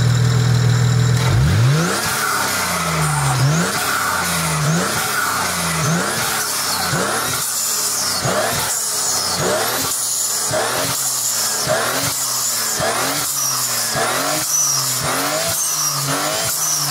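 A modified BMW car engine revs hard again and again in a rapid rising-and-falling rhythm, loud and close, with a raspy exhaust note through an exhaust valve throughout.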